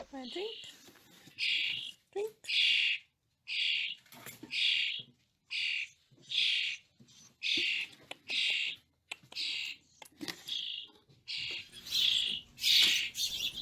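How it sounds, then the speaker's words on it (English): A house finch fledgling chirps repeatedly in short, bright, high-pitched calls at a steady rhythm, close and fairly quiet, with occasional faint voices in between. "This house finch has discovered its wings."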